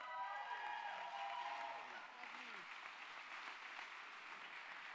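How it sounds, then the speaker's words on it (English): A church audience claps steadily in a broad wash of applause at a Sunday morning service honoring graduates, while a voice speaks over the opening seconds. "Continue to give a round of applause to our graduates this morning"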